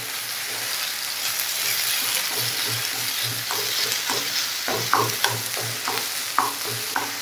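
Prawns for a Kerala thoran sizzle steadily in a hot pan as they are stirred, the constant frying hiss punctuated by a run of sharp spatula scrapes and clinks near the end.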